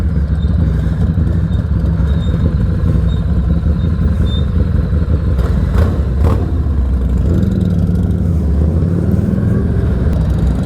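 A motorcycle engine revs hard and close, loud and continuous with rising and falling pitch throughout, no talking over it.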